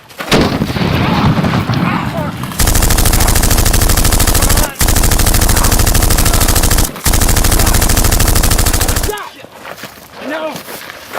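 Sustained bursts of rapid automatic gunfire, very loud and close, long continuous volleys broken by brief gaps, with shouting voices before and after the firing.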